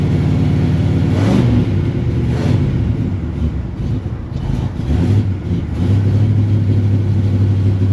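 A Jeep J20 pickup engine runs close and loud, its steady mid-range rumble swelling into a couple of revs before settling back to a firm, even idle.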